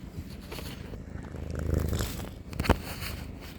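A cat purrs steadily right at the microphone, a close rumbling drone with a few snuffling sniffs and a louder bump near the end, alone without talk.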